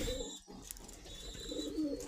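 Pigeons coo steadily inside a pigeon loft on a farm, soft and close, with low murmuring calls repeating over a quiet background.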